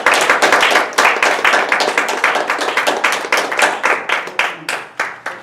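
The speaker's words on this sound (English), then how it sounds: "Let's please give a warm round of applause to our President, Advanced Communicator Bronze, Mark Lockery." Hands clap at a club meeting in a quick, steady rhythm, close and clear, loud at first and thinning slightly toward the end.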